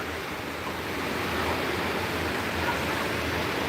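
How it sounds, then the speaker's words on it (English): Ocean waves breaking against big rocks along a shoreline, a continuous close roar of surf and wash with wind-like hiss, fairly loud and steady, without speech. "so you can see alive the ocean and the waves"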